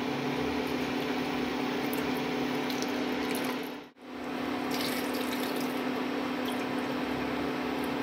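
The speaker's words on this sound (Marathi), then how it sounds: "त्यात आता आपल्याला 1 कप भगरसाठी मी जवळजवळ 5 ते 6 कप पाणी घालणार आहे।" Water pours steadily into a cooking pan for bhagar, a continuous close splashing stream that dips to a brief pause midway before resuming, with no talking.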